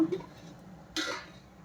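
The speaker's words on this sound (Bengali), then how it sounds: "এই যে পেঁয়াজ আর টমেটোটা। এখন লাল লাল করে ভেজে নেবো।" Onion and tomato tipped into a hot pan of oil with whole spices for a Bengali country chicken curry: a short clatter of utensil on pan, then a brief hiss of frying, quiet and close.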